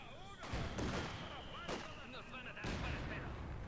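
Sharp bursts of gunfire in Company of Heroes 2 crack out at irregular intervals, loud and close, while voices talk and chatter underneath.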